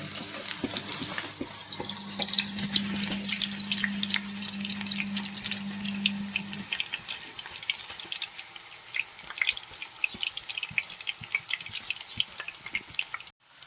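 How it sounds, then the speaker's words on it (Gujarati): Thin banana slices fry in boiling oil, giving a steady, busy crackle and sizzle throughout, with a low hum in the background for the first several seconds. "એકદમ ઉકળતા તેલમાં આપણે વેફર પાડી લઈશું"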